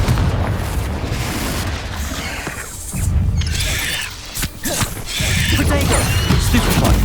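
Confringo fire spell explosions in the video game Hogwarts Legacy, a series of loud booming blasts with crashing impacts over a continuous rumbling low bed, dipping briefly midway before surging again.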